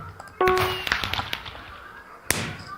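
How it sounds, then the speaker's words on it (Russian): Video game fireworks go off in a few sharp bursts, one loud crack near the start and another later, with lighter pops and crackles between. "Ось фейерверк через вас запускаємо."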